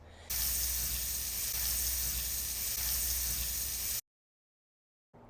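Butter sizzling in an oiled pan over low heat, a steady loud hiss that runs evenly for about four seconds and then stops abruptly.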